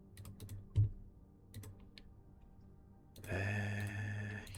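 Computer keyboard typing during a command-line session, scattered close key taps at first, then a pause and a denser run of clicks, no talk.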